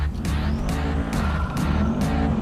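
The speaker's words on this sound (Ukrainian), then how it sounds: "Давайте послухаємо вихлоп зразу" In the video game GTA 5, a G-Class SUV engine rumbles steadily with a deep exhaust drone, revving in repeated surges, loud and close.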